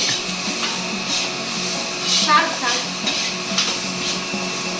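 Spices such as chili powder and pepper are stirred into a hot cooking pan with a close, continuous sizzle and soft scraping strokes, over a steady background hum.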